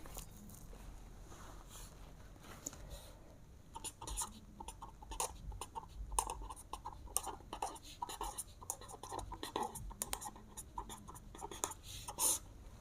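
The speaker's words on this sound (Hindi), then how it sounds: "तो इसमें लिखते हैं डिवीज़न प्रॉपर्टी।" A pen scratches and taps on paper while working a class 8 maths exercise, with faint irregular strokes and clicks close by in a quiet room.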